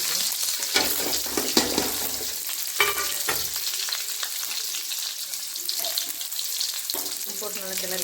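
Mustard seeds, curry leaves, dried and green chillies and onion frying in a pan, crackling sizzle with bursts of stirring and scraping, close, no voices.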